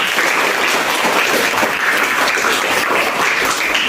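Steady, dense applause fills an Indonesian classroom during a teaching practice session, with many hands clapping continuously and evenly throughout, with no talk.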